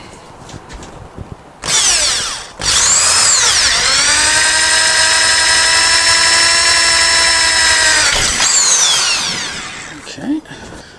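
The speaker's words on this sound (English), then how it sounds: "I've now got to drill out these 2 holes." A power drill drilling holes in metal on a Moto Guzzi motorcycle whines loudly and steadily for several seconds with a bright harmonic pitch, ramping up and winding down, preceded by short bursts and quiet pauses.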